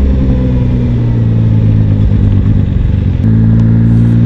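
Zontes 703F adventure motorcycle, cable throttle rather than throttle-by-wire, idling and revving close by with a steady, loud mid-range engine drone that shifts pitch slightly near the end, no voices.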